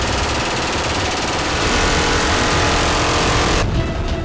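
An attack aircraft's gun fires at a ground target during a low pop-up attack, producing a dense, loud, continuous rattling burst that cuts off abruptly near the end.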